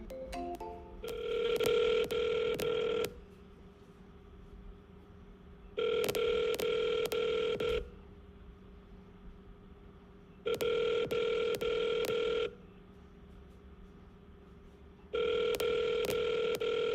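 Phone line on a sales cold call, with a quick burst of dialing tones at the start followed by a repeating ringback tone, four long two-second rings separated by pauses of about three seconds, steady and clear with no talk.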